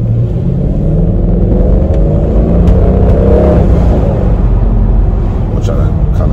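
A Mercedes-Benz W211 E500 with a muffler delete drives in second gear, its exhaust a loud, steady, deep rumble heard from inside the car, with a rising engine note through the middle and wind noise above.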